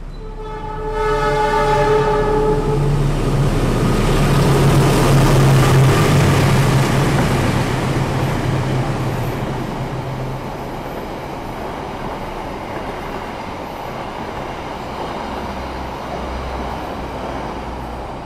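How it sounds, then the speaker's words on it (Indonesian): The Malabar express from Malang to Bandung passes close by a station in Indonesia, opening with a loud sustained horn blast, then a heavy roar and clatter of wagons that gradually fades into a lingering rumble. "Yang baru saja melintas itu adalah kereta api Malabar ya, dari Malang tujuan Bandung"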